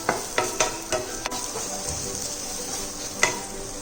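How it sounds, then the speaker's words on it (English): Cumin and black pepper sizzle and crackle in a hot pan, with intermittent sharp clicks of stirring over a steady frying hiss. "Just roast it again in the same pan."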